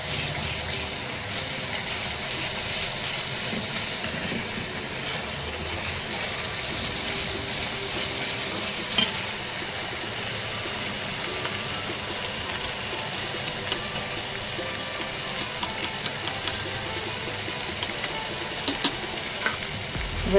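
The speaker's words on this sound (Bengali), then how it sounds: "ওই তেলটার ভেতরেই একটু আদা পেস্টটাকে ভালো করে নাড়িয়ে তারপরে আমি দইটা ঢেলে দেবো" Ginger paste is stirred in hot oil, making a soft steady sizzle with faint scraping stirs throughout. The sound is quiet and even, with a few small pops near the end and no talk.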